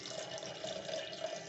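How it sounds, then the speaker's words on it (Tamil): Tamarind water poured into a pressure cooker while making rajma puli kulambu, a brief, quiet, steady trickling splash with no talk. "அப்புறம் கொஞ்சம் புளி தண்ணி ஊற்றிக்கலாம்"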